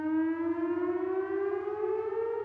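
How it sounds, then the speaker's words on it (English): Civil defense emergency sirens sounding during a countywide test in Boulder: one loud, sustained wail that rises slowly in pitch over a low hum, with no voices. "emergency sirens were tested countywide this week"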